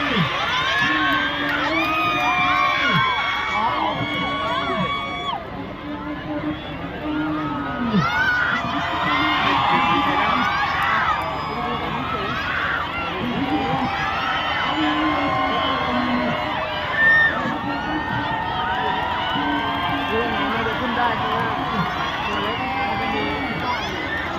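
A dense crowd packed around a campaign stop for Pita and the Move Forward party at Talat Nok Hook market in Nonthaburi, cheering, whooping and shouting steadily and loudly close by, with voices calling out through the whole stretch.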